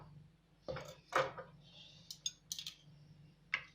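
A metal spoon scrapes and clinks against a jar of almond butter during green smoothie prep, a few short close scoops and taps separated by brief pauses, quiet overall with a low steady hum beneath.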